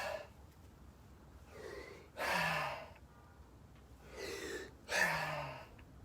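Deep rhythmic breaths in a Yin Yang breath ritual: two full inhale-and-exhale cycles, each a loud rushing burst with a softer lead-in, close and alone with no talk.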